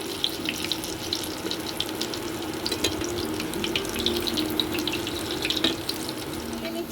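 Batter-coated egg pakoras frying in hot oil and being turned over one at a time: a steady crackling hiss broken by scattered sharp pops and small clinks, close by and without talk.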